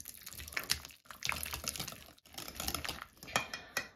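Room-temperature margarine creamed in a bowl, with steady scraping and clinking of a utensil against the bowl sides in uneven bursts, close and moderately loud.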